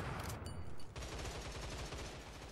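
Rapid automatic gunfire in a shooter video game rattles in fast, evenly spaced bursts, fairly faint and distant in the mix.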